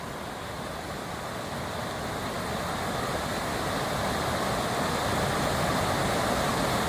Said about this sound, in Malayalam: കണ്ടോ, കിടിലനൊരു വെള്ളച്ചാട്ടം കണ്ടോ?